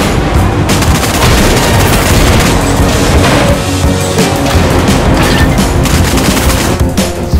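Heavy, continuous cannon fire and explosions from the video game Agent Intercept pound loudly throughout, a dense barrage of booms and blasts with no pauses.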